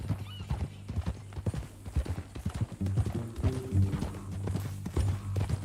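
Horse hooves clip-clop in uneven bursts in Red Dead Redemption 2, close and fairly loud, joined midway by a drawn-out neigh from the horse over a low rumbling background.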